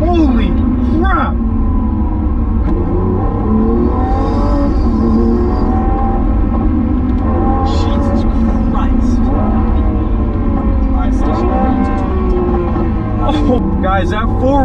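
A supercar with four-wheel steering drives hard, its engine droning loud and steady with rising and falling revs throughout, while excited talk runs over it.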